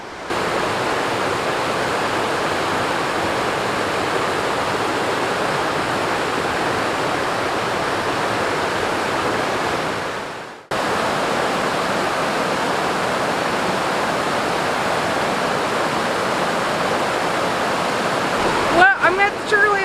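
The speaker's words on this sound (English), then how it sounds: "water is flowing" Stream water rushing steadily along Sugarlands Trail in Great Smoky Mountains National Park, a dense, continuous wash close by that breaks off briefly midway and resumes, with a faint rustle near the end.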